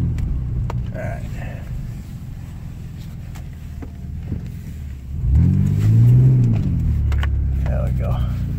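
A 2003 Ford Escape's engine idles with a low rumble, then revs up strongly as the wheels spin during a 4x4 test, with wind and occasional voices in between.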